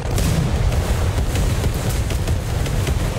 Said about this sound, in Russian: опять взрыв боекомплекта